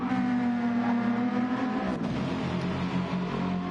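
A Mercedes SLS race car engine in a sim racing game revs loudly and steadily, its note dropping as it shifts or lifts off midway, with no voices.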